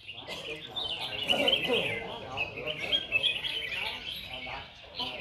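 Close, lively warbling from a red-whiskered bulbul competing in a song contest in Bình Dương, its rapid chattering notes running without a break over faint background chirps.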